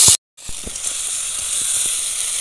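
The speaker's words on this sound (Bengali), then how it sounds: "এবার দেবো আদা বাটাটা দিয়ে দেবো, ভালো করে একটু কষাবো" Ginger paste frying in a pan for chicken curry hisses and sizzles loudly and steadily after a brief burst and a short gap, with faint scattered crackles under the hiss.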